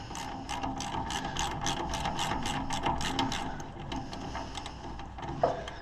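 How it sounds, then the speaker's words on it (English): Craftsman ratchet with coarse, widely spaced teeth, clicking in a quick even series of sharp, close ticks, working on an Allis Chalmers 175 tractor's voltage regulator, a few louder clacks near the end. "Craftsman ratchet with the coarse teeth. Got a tooth spacing like the winch on a Confederate battleship, so it's not very fine."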